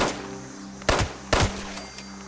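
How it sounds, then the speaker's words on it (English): Gunfire in the video game Fallout 76: two sharp, distant shots crack a moment apart over a low steady hum. "Can hear some gunfire over here."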